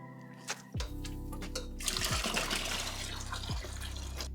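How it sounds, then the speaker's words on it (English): Water draining from an aquarium tank, a steady broadband wash and trickle running almost continuously after a few short clunks at the start, fairly close and alone without talk. "So let's start draining the water a little bit."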